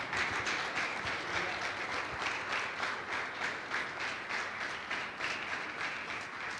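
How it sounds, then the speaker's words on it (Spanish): A church congregation applauds loudly and steadily during a Friday sermon, dense clapping sustained throughout with no pause and no voices over it. "¿Cuánto le dan un fuerte aplauso a Dios por eso?"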